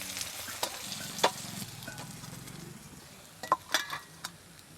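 Fish frying in a pan over a tribal-style cooking fire, a steady close sizzle with a few sharp clinks and stirring knocks scattered through, no talking.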